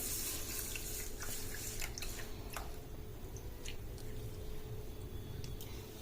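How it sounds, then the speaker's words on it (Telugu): Moong dal lentils are washed with water in a bowl: a steady close splashing and sloshing with scattered squishy clicks of grains being rubbed, no talking. "పెసరపప్పుని ఒక బౌల్ తీసుకొని అందులోకి వేసి బాగా క్లీన్ చేసి 2 టైమ్స్ క్లీన్ చేసి కడిగి పెట్టుకోవాలండి"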